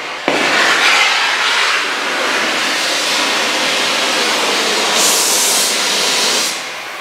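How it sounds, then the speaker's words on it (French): An oxy-acetylene welding torch is lit and burns steadily while brazing copper with a silver rod, giving a loud continuous roaring hiss with a brighter surge of gas near the end, and no voices. "je vais légèrement ouvrir l'oxygène et je vais ensuite ouvrir l'acétylène et je vais allumer mon chalumeau"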